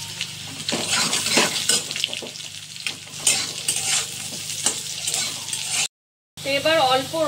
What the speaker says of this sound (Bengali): গাজরটা একটু ভাজা করে নিই।